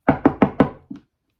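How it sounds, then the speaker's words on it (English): Four quick, firm knocks on a wooden front door, evenly spaced and close, followed by a fifth softer rap after a brief pause, then silence. "he was rapping at the door of his nephew"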